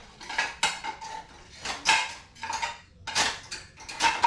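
Dishes, plates and cutlery clatter as they are cleared and stacked in a home kitchen, in a series of close, sharp clinks and scrapes with brief pauses between them and no talking.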